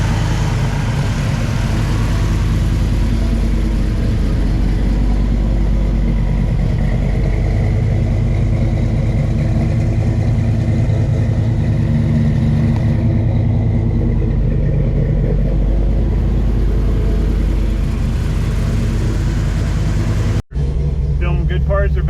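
A 454 V8 in a Chevelle SS with Holley Sniper EFI idles steadily with a loud, dense low rumble throughout, then cuts off abruptly near the end while people talk over it.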